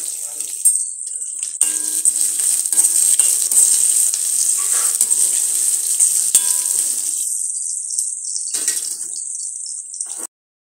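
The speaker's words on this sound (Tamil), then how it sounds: "வெங்காயம் வதங்கிடுச்சு" Onions frying in oil with curry leaves and dried red chillies for a carrot poriyal, a steady close sizzle with scattered scrapes of stirring throughout, cutting off abruptly near the end.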